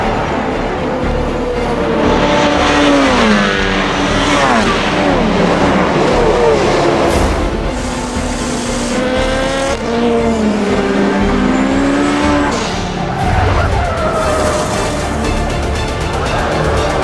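Porsche race cars at full speed at Le Mans, loud engines roaring and rising and falling in pitch through gear changes as cars pass close by, with a dense, continuous racing din.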